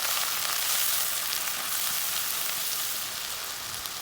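Ground spices sizzle steadily in hot oil in a wok for a chicken roast with onion, garlic and ginger paste, a dense continuous crackling hiss, close and loud, with no voices.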